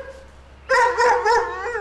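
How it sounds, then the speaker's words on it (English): A dog gives a short burst of high yipping, howl-like barks, three or four close, loud calls in a row after a quiet moment. "barking is a major problem we have with Candy. She barks at any noise"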